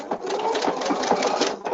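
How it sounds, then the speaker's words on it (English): An EPIC 2 sewing machine runs steadily, laying down tight satin stitches on fabric with a rapid close mechanical whir and a slight pause near the end. "Let it sew the little satin stitches down"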